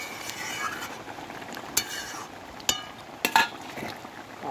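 Food being stirred in hot ghee in a pan: soft, steady scraping with a few sharper clinks of the spoon against the metal, fairly quiet and close, with no talking.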